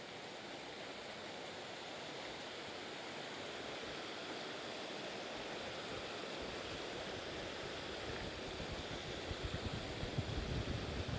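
A stream at Glen Mooar on the Isle of Man flows past in a steady, soft wash of running water, low in level and unbroken, growing a little fuller and more turbulent near the end.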